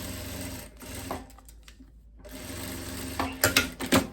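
Sewing machine running steady stitches on a long viscose dress, a fast mechanical whir that pauses briefly midway then resumes with a few louder thumping bursts toward the end, close and without talk.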